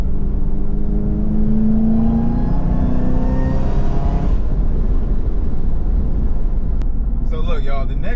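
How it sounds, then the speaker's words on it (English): Supercharged Camaro ZL1 engine accelerating hard with a rising whine and rumble that climbs through the gears, then drops to a steady roar, with a voice coming in near the end. "You cannot tell me the supercharger does not sound possessed."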